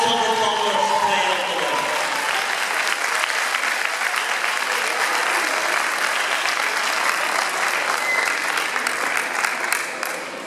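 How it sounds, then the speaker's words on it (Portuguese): Applause from the audience at a choir gala of a music school, loud and dense clapping running about ten seconds, briefly overlapping fading voices at the start before tapering off at the end. "E uma grande salva de palmas para ele"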